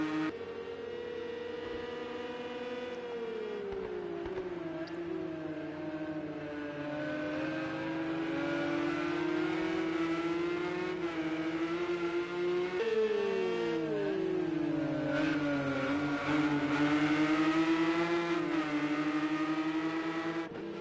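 Porsche race cars in a racing video game howl around the Silverstone track in a close battle, their engines whining up and down through the gears, loud and continuous, with overlapping tones from neighbouring cars.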